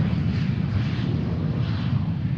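A private jet departing Boeing Field makes a loud, unbroken engine roar, dense and rumbling across the whole moment.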